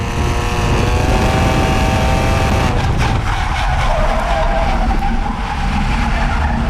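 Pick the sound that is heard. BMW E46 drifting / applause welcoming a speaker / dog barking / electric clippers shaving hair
BMW E46 drifting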